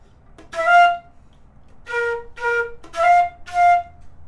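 A sequence of five short whistled or played notes, a scoop from E up to F among them, sounding clear and close with brief gaps between the notes.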